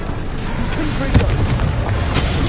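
A Confringo fire spell bursting in Hogwarts Legacy, heard as a dense, loud blast amid continuous game combat noise and rumbling low booms.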